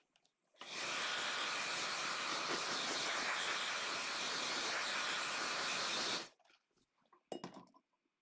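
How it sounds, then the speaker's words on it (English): A blow dryer runs on wet paint for about five seconds, a loud steady airy whoosh that switches on and cuts off abruptly, with soft clinks from the painting setup after it stops. "And blow dryer."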